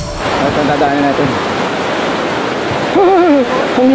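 Asik-Asik Falls roars as a loud, steady wash of falling water, with excited voices faintly crying out over the rush.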